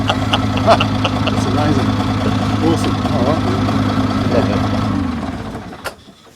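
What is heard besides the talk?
Commer TS3 engine running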